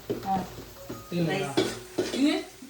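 Onions deep frying in a pan for paneer fried rice, with a sizzling hiss under repeated stirring clatters and scrapes of a utensil against the pan.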